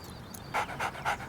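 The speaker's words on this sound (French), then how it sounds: "Ah non, c'est pas un chien errant, il a un collier." A collared dog pants in quick, breathy bursts, four close rhythmic puffs after a quiet start, with no voices.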